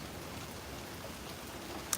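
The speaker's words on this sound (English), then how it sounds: "all that water running down." Heavy thunderstorm rain in New York City with water running down, a steady even hiss of downpour and runoff, fairly soft, ending with one brief sharp tick.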